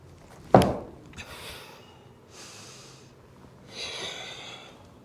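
Deep breathing during a power vinyasa yoga flow: a sharp nasal inhale-snort, then several slow, soft exhales and inhales spaced a second or two apart, close and quiet.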